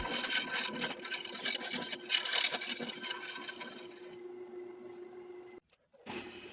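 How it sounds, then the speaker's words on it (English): A wood lathe spins a firewood goblet blank mounted between live centers as it is rounded out, giving a steady close mechanical whir with scraping cutting noise that briefly cuts out near the end. "I proceeded to round it out and get it balanced so that I could speed up the lathe a little bit."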